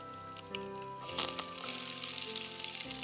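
Garlic cloves and onion frying in a pan over a mango-wood fire, a steady close sizzle that swells louder partway through as they hit the hot oil.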